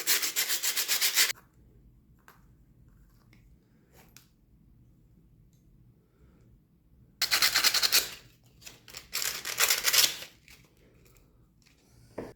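Sandpaper on a block rubs across wood on a wooden gaff cutter, heard as close, rasping sanding strokes in a burst, then a long quiet pause, then more strokes in two bursts, with no talking.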